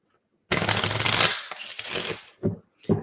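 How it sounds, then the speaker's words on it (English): A deck of cards is shuffled up close, one long riffling burst followed by a softer rustle and two short bridging flutters, crisp and loud against a quiet background. "All right, I'm going to go ahead and shuffle these cards for Christine."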